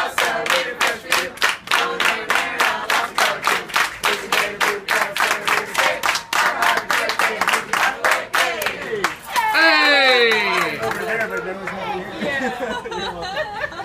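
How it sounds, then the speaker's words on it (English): A group at a dinner table claps in a fast, steady rhythm, loud and close, with voices shouting and talking over the clapping before it breaks into cheering. "you guys have to help us clap"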